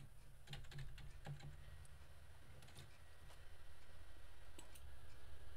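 Keys clatter on a computer keyboard while an email address is typed, scattered quick taps in short bursts, close and quiet over a low background hum.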